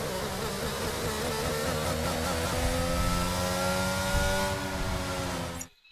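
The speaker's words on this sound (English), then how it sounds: "Let's just make sure my audio is not being overtaken by the AI, the car noise." Race car engines in a racing video game at a Saudi Arabia round: a loud, continuous high revving drone with shifting engine tones and rising pitch sweeps, no voices, fading out sharply at the very end.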